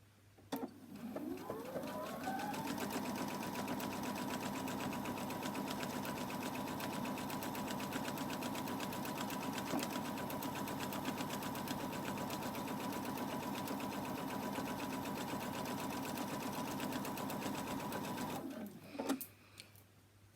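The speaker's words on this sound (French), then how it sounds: "Donc là, on va commencer à coudre." A sewing machine runs steadily stitching fabric for a bonnet, a fast continuous whirring hum that spins up, holds for about fifteen seconds and then stops with a couple of clicks.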